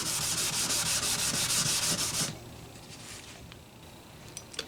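Wet sanding on a crushed Gibson J45 acoustic guitar body: about a dozen rhythmic, close, rasping strokes run steadily for two seconds, then stop, leaving a quiet room with a few faint clicks.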